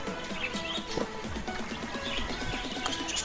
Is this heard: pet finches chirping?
yes